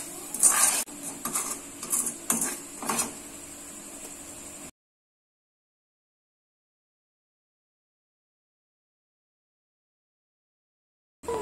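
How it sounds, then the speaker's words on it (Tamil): Ginger candy mixture being stirred in a pan, a few scraping, clinking spoon-against-pan strokes in quick irregular bursts, close and fairly quiet, then silence. "அது வரைக்கும் நல்லா வதக்கிட்டே இருக்கணும்."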